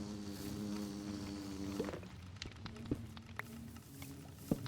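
Diamond bees in a modded Minecraft bee game give a soft, steady insect-like buzz with a low hum, punctuated by a few sharp clicks and taps near the end.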